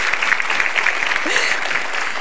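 Loud, dense applause fills a televised political dialogue studio for presidential hopeful Pak Marzuki Ali, a steady close wash of clapping with a few voices underneath.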